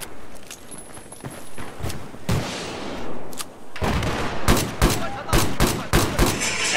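Sniper rifle shots in the Battlefield 4 video game: a cluster of sharp, loud reports near the end, over busy, continuous battle noise.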